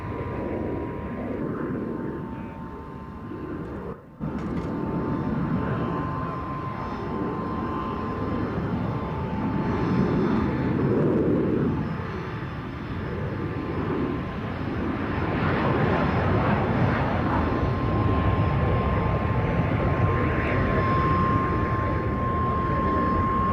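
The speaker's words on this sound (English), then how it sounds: "At last, the Hunters, the zenith of jet preservation in the UK. OFMC's pair first away." Two Hawker Hunter jets take off at the 1996 Duxford airshow, a continuous loud jet roar swelling and holding steady as the pair gets away, with wind buffeting the microphone.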